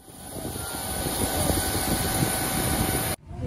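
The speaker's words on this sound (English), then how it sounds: "I'm sit in plane. Soon we will go." Steady, fairly loud aircraft cabin hum with a constant engine drone and a high whine inside a passenger plane waiting before takeoff, cutting off abruptly near the end, with no talking.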